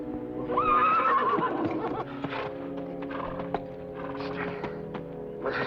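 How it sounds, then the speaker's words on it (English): A horse gives a loud, close whinny with a rising and falling pitch, followed by hoof thuds and shuffling as someone speaks nearby. "You might fetch my horse."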